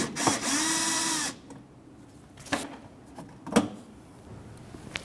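Phillips head screws being backed out of a Nissan Frontier fender well with a power driver: one sustained whirring spin up close, followed by a few sharp clicks and clunks of handling.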